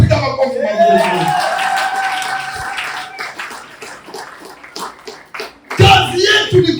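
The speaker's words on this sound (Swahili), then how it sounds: "Haleluya, piga makofi mazuri" A church congregation claps hands during a sermon, bursts of rhythmic clapping mixed with a preacher's loud voice and crowd noise, mid-distance and lively.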